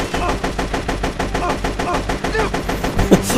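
Rapid automatic gunfire from the player's weapon in Metal Gear Solid: Peace Walker, loud and steady bursts rattling continuously with a brief voice or effect near the end.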